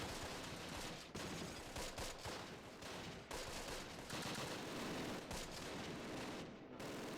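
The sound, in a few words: anti-infantry gun firing at night in Close Combat video game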